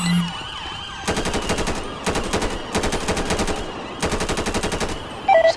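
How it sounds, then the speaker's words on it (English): Police officers in GTA 5 open up with rapid automatic gunfire in several long bursts, loud and close, while an emergency siren wails underneath throughout. "Lethal force is authorized. Open fire."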